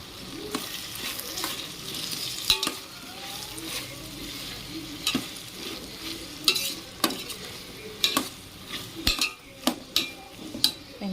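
Ginger garlic paste sizzles and fries in a pan for veg biryani. Clear stirring and scraping runs throughout, and sharper clinks of a spoon against the pan land near the end.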